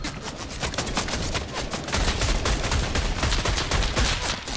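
Rapid gunfire rattles continuously in Fortnite as enemies shoot at the player, dense cracking shots overlapping with a heavier burst of impacts in the second half.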